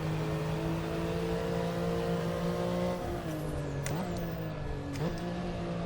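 A TECHART GT Street R road car in the Assetto Corsa racing game drones with a steady engine tone, then the pitch dips and rises through two quick gear changes, loud and continuous, with no speech.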